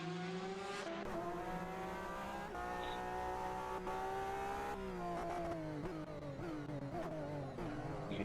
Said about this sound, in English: that scream of the flat 6 engine in the back of the Porsche RS Hybrid there